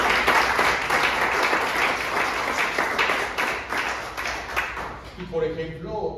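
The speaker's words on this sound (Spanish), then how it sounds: "Si lo creen, ese aplauso al Señor." Congregation applause in a church fills the space, brisk overlapping clapping that gradually thins and fades toward the end as a voice comes in.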